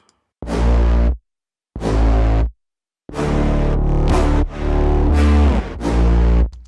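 A deep, dark sub bass synth patch made in Serum plays a few long held notes with short silences between them, heavy and rumbling with no other instruments.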